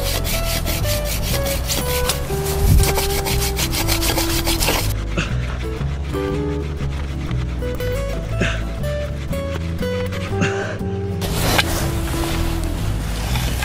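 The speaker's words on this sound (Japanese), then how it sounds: "とりあえず火つくまでね、こすり続けるわ" Steady, rapid wooden rubbing and scraping of bamboo rubbed together to make fire, continuing close by for the whole stretch without pause.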